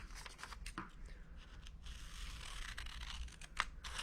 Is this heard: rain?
no